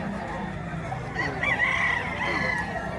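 A bullstag rooster at a poultry market in Batangas crows and clucks close by over a steady background murmur, with a brief raised call in the middle.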